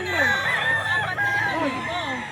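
A Cuban hennie rooster crows at a pet market, a loud, close, drawn-out cock-a-doodle-doo with wavering pitch, while faint voices and clucking from other fowl sit underneath.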